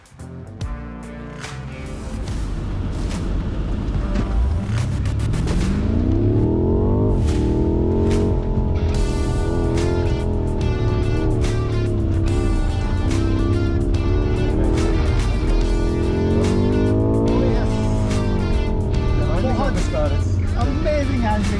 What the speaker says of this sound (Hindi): हम जाने लगे हैं इस 600 हॉर्स पावर BMW M5 पे फॉर अ लैप टाइम